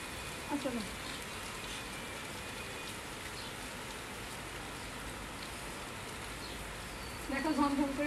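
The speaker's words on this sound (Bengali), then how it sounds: "দেখো ঝমঝম করে বৃষ্টি নেমে পড়ছে অলরেডি" Heavy rain pours down steadily over a residential rooftop, a dense continuous hiss that holds through the whole stretch, with brief voices talking near the start and end.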